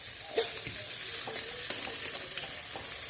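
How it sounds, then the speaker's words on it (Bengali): Food frying in a pan while being stirred: a close, steady crackling sizzle broken by repeated scraping strokes of the spoon, with no voices. "ভাজা হইতেছে"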